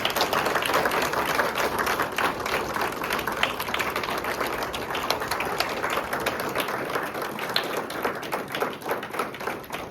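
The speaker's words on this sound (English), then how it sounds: "Shall we have one last round of applause for our graduates?" Sustained applause from a graduation ceremony audience honoring the graduates, a dense, steady clatter of many hands clapping at once, holding at an even level from start to finish with no voices standing out.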